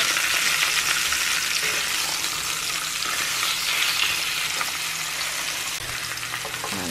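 Chicken breasts stuffed with asparagus sear in a hot pan, giving a continuous, fairly loud sizzle and crackle of frying with slight shifts in intensity and no talking.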